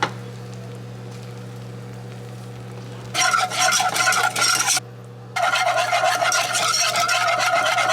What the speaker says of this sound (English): Threw in cheese, milk, and I'm gonna just keep whisking it in there